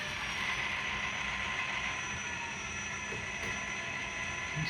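An N scale Precision Craft EMD E7A model locomotive runs steadily on its track, giving a continuous close mechanical whir and rattle that stays at an even level throughout, with no talking.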